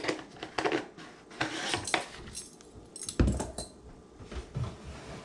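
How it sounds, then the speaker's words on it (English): A level teaspoon of electrolyte powder scooped and tipped into a jar, giving a run of close clinking and scraping taps of metal spoon against glass, with a sharper knock near the end. "Just take a one level teaspoon,"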